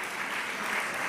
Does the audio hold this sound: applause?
yes